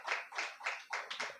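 A church congregation claps during a Sunday service, five or six rhythmic bursts of applause close together, moderately loud and fairly near, with no voices over them.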